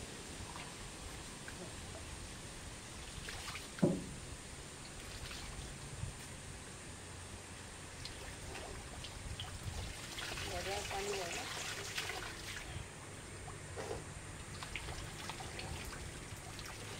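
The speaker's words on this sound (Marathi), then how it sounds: "पाहिलं की कशा प्रकारे ही तळी आहे, कुठून कसे ते झरे येतात" Water from a natural spring trickles into a clear pond outdoors as a steady, soft wash with a faint bump or two, continuing for the whole stretch.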